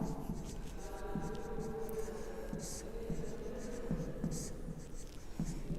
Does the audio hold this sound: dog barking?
no